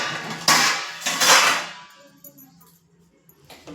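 Metal clangs and scraping ring out from a pot as puffed rice (mamra) is tempered, with two loud bursts near the start and then quieter clinks and rattles trailing off, no talking.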